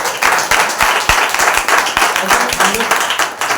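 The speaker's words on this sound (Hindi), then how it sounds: "तालियां हो" Clapping from a church congregation at a Friday special service in Lucknow, dense and steady with sharp individual claps standing out, fairly close and loud throughout.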